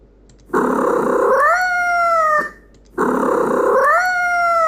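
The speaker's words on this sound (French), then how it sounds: "c'est un feulement en plus d'un miaulement" Two drawn-out, loud recorded cat cries in a row, each starting as a raspy, noisy hiss-like growl before rising into a strained meow, separated by a brief pause.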